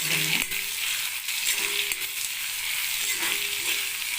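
Onions sautéing in oil left from frying fish, a steady bright sizzle with a few light metallic clinks from the spoon, close by and without talking.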